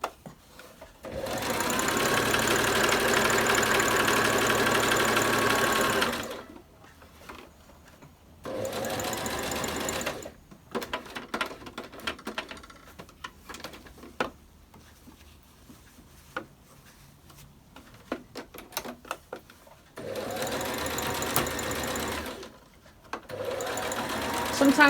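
A sewing machine stitches a fabric face mask with elastic, running in long steady bursts of close, loud mechanical whirring, separated by pauses where someone talks.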